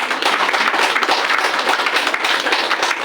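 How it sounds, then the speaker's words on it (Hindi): Loud, close clapping fills a hall as an audience at a DXN wellness industry seminar in India claps for executive star diamond Amitabh Jaiswal, dense and continuous with no talk. "प्लीज उनके लिए जोरदार ताली"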